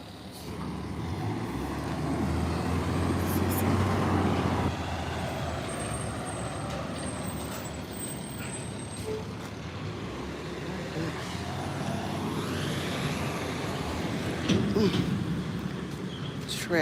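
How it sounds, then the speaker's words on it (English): A garbage truck idles and rumbles on a residential street, a steady low engine drone with a brief hiss of air brakes, heard from a short distance amid outdoor traffic noise. "Trash truck is running."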